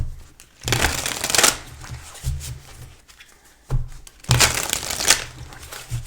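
Tarot cards being shuffled by hand during a reading, close crisp riffling bursts repeating in several rounds with short softer pauses between them.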